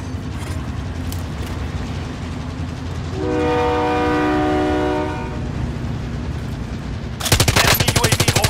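Train in Call of Duty, a loud sustained horn blast over rumbling rail noise, then sudden rapid machine-gun fire breaking in near the end.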